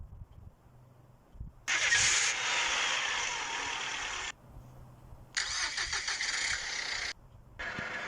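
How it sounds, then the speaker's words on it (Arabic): A car engine cranks and catches three times in quick succession, each burst starting abruptly and running for a second or two before cutting off, fairly close and loud against a quiet background. "يلا قوم السيارة."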